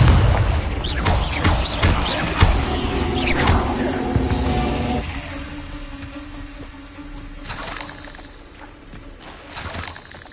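Confringo spell blasts in the video game Hogwarts Legacy, several loud booming bursts with crackling debris, followed by quieter ringing tones and a later sparkling burst.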